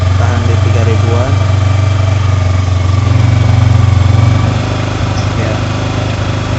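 A motorcycle engine is held steady at about 3000 RPM while a quick shifter module is calibrated, giving a constant, close, droning hum that runs through the whole stretch with a slight swell in the middle.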